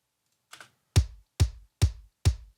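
A chosen kick drum sample plays alone: one soft tap, then four punchy, low thumps evenly spaced about half a second apart. The hits are close and clean, with silence between them.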